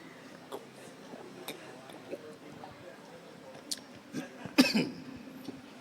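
A single cough bursts out near the end, a sharp close hacking sound after a stretch of quiet room noise with small scattered ticks and rustles.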